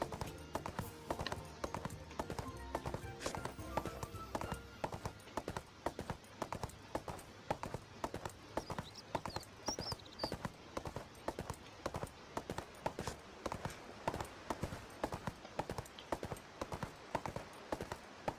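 Hooves clip-clop in a steady, quick rhythm, fairly soft and continuous, as a horse trots along in the video game ArcheAge.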